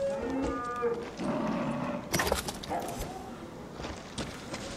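A cow moos loudly and close in the video game Far Cry 6, a drawn-out low call followed by footstep-like thuds and shuffling, with voices talking over parts of it.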